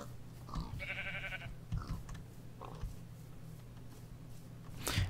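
A sheep bleats in the Minecraft video game, one short wavering bleat standing clear over a steady low background hum, followed by a few faint clicks and soft game noises.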